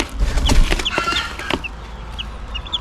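Young fighting-cock chicks from a gamefowl hatch cluck and peep in quick, uneven bursts close by, with several thin high chirps scattered between the lower clucks.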